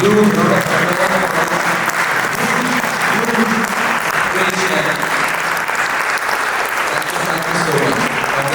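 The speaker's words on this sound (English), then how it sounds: "a huge round of applause" A large crowd applauds steadily and loudly throughout, a dense wash of clapping with no pauses.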